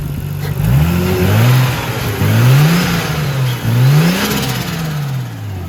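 An R33 Nissan Skyline's engine revs repeatedly, a misfire having been noted earlier, with three rising and falling sweeps from a steady idle, loud and close with no talk.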